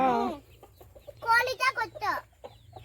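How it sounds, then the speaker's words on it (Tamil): A chicken being held by a small child gives a few clucks, heard close amid bursts of children's and adults' chatter. "கல்கி பாரு எவ்வளோ அசால்ட்டாக அந்த கோழி பிடிச்சிட்டு இருக்குது"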